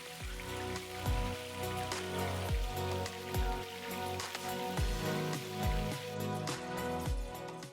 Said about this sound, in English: Flip the mushrooms over and let it fry for another couple of minutes